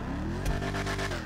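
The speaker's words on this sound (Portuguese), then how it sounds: "Eu quero escutar o ronquinho do motor." An SUV engine in the video game GTA 5 revs steadily and loudly, with a rough, rising drone and a brief sharper surge partway through.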